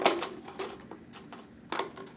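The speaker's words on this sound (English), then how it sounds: "you take your scissors and you cut around the shape" Scissors cut around a traced paper shape, giving quiet crisp snips at an uneven pace with short pauses between them. The sound is close and soft, with no talk.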